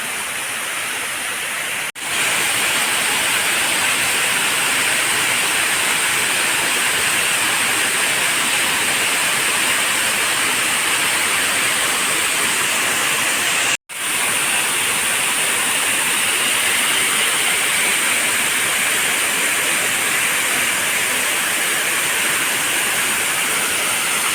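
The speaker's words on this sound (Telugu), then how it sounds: "వాటర్ ఫాల్ ఇక్కడ నుంచి అయితే వ్యూ చాలా సూపర్గా వస్తుంది" A waterfall at Ethamanugudem, swollen with heavy flow and pouring down from both sides, roars as a loud, steady broadband rush. Two brief dropouts cut the sound for an instant.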